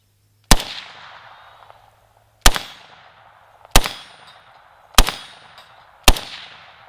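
Five sharp, loud gunshots from a Cetme L rifle, spaced about one to two seconds apart, each with a short echoing decay outdoors and no talking.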